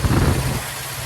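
A Datsun 521's engine idles with the choke on, just after a carburetor adjustment, following years in storage. The rumble is brief, loud and close, settling slightly toward the end.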